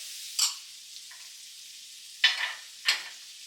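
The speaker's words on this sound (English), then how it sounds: "Then you want to just cook that until the onions are softened or translucent." Onions, celery and peppers sauté gently in melted butter for New England stuffed quahogs: a faint, quiet hiss broken by three short stirring scrapes.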